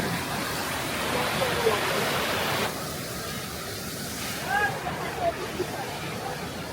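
A steady, broad rush of falling water from a waterfall at Nilgiri, Bandarban, heard from a short distance, with faint voices now and then.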